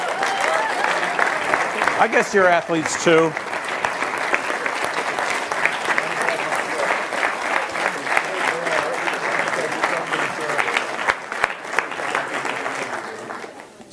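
A crowd applauds student entrepreneurs at the final round of a pitch competition, with steady sustained clapping filling the room for over ten seconds while a voice briefly speaks over it.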